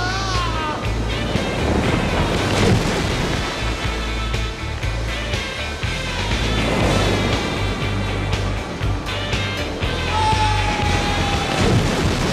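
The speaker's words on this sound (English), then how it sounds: "really gnarly waves breaking in about a foot of water" Heavy waves crash in the shallow shore break at Waimea Bay, a continuous loud roar of surf and churning water with wind noise throughout, near and dense, with no voices.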